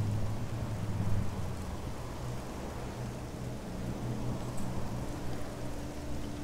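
Steady rain with low rumbling thunder in the video game Aliens: Colonial Marines, a continuous wash of downpour noise with a deeper roll underneath, at moderate level throughout with no talking.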